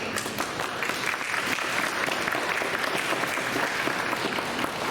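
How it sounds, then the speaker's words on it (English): Museum audience gives a big, sustained round of applause at an art event, a thick, constant roar of many hands clapping with faint crowd noise underneath. "Can I please have a big round of applause for Colleen?"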